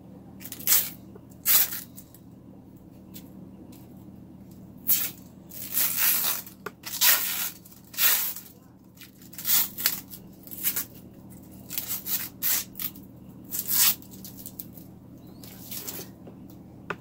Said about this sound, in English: we'll go ahead and do the plastic peel